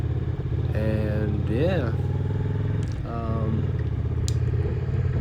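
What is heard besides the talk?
old motorcycle riding around a marina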